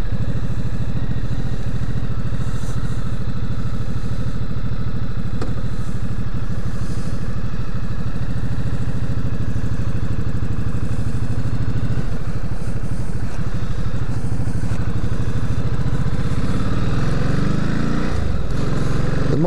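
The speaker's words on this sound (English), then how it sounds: "Let's take this for a ride, and I'll finish this review on the road." A 2014 Ducati Multistrada Granturismo motorcycle rides along the road, its engine droning loud and steady with some mechanical clatter and rising revs near the end, with no voices.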